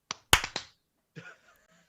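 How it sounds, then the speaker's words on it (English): One sharp hand clap marks a recording sync point during a tabletop role-playing campaign session. A couple of lighter taps sit right around it in a quiet room, followed by a brief faint sound. "We're gonna clap in 3"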